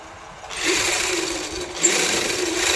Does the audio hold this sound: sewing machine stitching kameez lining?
yes